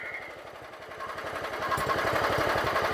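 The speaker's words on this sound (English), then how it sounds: "You're running a low idle, that's good." A John Deere GT262 lawn tractor engine, still holding some old fuel, putters at low idle with a steady, rapid rhythmic chug that grows slightly louder, heard close up without speech.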